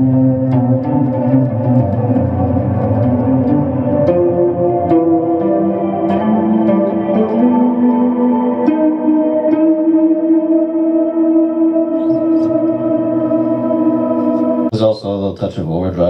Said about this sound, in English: That's a reverb.